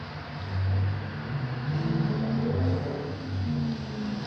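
A built engine idles with a low rumble, swelling in a few moderate revs, steady and close with no talking.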